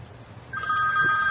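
A telephone rings with a thin, steady electronic tone that starts partway through and continues at moderate volume.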